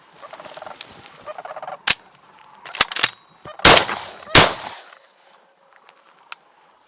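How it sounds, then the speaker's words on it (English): Cranes call overhead at a waterfowl hunting spot in Saskatchewan: several loud, rattling, bugling bursts in irregular sequence, close above, separated by quieter gaps. "got some cranes overhead."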